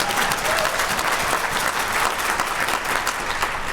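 Sustained, dense applause from a large union convention audience at an AFSCME Council 5 gathering, loud and steady clapping filling the hall throughout with no break.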